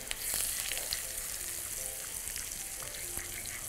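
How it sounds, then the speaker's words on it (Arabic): Garlic and onion fry quietly in butter and oil in a pan, giving a soft, steady sizzle with faint crackles throughout. "احمر التومه والبصله"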